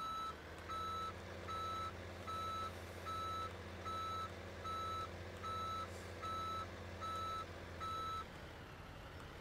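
A tow truck backing up in Farming Simulator 17 sounds its reversing alarm, a regular high beep repeating about every second over a low steady engine hum, clear and sustained, then stopping near the end.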